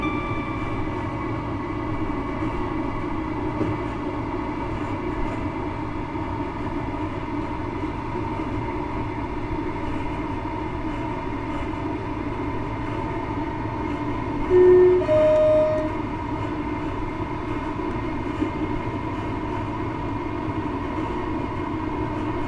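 A Class 158 diesel train from a train simulator game runs steadily and then coasts with the power shut off, a continuous rumble with a brief horn-like tone partway through and no talk.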